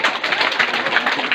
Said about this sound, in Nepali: second Tali second Tali